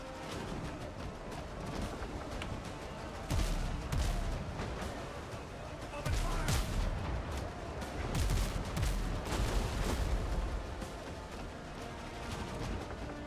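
Ship cannons boom in a WindRose naval battle, a steady rumble of gunfire with heavier volleys bursting around three, six and nine seconds, loud and sustained with no talk.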